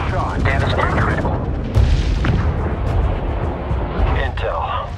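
Spaceship explosions and gunfire in the space strategy game Homeworld 3, with a sharp boom near the two-second mark amid continuous loud battle rumble and layered weapon fire, while a voice talks over the action.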